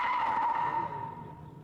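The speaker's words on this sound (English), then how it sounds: "He then braked hard to avoid rear-ending the car in front and span out" A car brakes hard on a motorway, its tyres screeching in one loud, sustained skid as it spins out, the squeal fading away toward the end.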